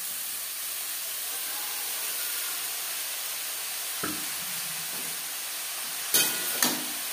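Chopped red amaranth greens frying with onion in a hot pan, producing a steady broad sizzling hiss, with a few soft clunks and two sharper scraping knocks near the end as the greens are stirred.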